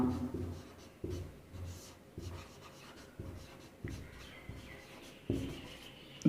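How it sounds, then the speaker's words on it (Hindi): A pen or chalk writes out the solution to a Class 10 math problem, a steady scratching of strokes broken by regular taps as each new line or character begins. The writing is close and clear, with no speech. "सबसे पहले ये लिखेंगे माना"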